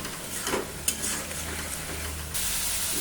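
Spices for Bengali-style chana ghugni sizzling in hot oil while a spoon stirs and scrapes the pan, with a steady fry hiss and a few close scraping strokes, heard without talk.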